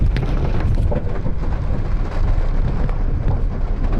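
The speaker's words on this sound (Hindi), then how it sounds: "जोरदार बारिश तो हो ही रही है" Heavy monsoon rain pours over a flooded Delhi-NCR street as a steady, dense roar with wind buffeting the microphone, continuous and loud throughout with no voices.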